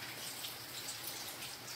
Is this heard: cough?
no